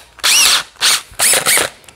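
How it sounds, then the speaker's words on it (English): A power drill fitted with a 3/8 bit bores a hole for a DIY 5-gallon water filtration setup, whining loudly in three close-up bursts with rising pitch and brief pauses between them. "I'm gonna drill my hole. Again, applying light pressure."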